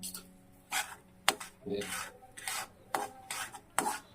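Semolina being stirred and roasted in ghee in a pan for rava sheera, giving repeated dry rasping scrapes of a spoon against the pan, about seven separate strokes in an irregular rhythm, close and fairly quiet with no talking.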